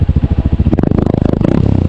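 A 2025 Honda CRF150 motorcycle engine thumps at idle, then revs up briefly with rapid, loud pulses close to the muffler.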